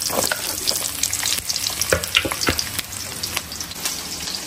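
Small onions and fenugreek seeds crackle and sizzle in hot oil for a fish kolambu, a steady dense frying hiss with occasional sharp pops and stirring clinks, close and fairly loud with no talking.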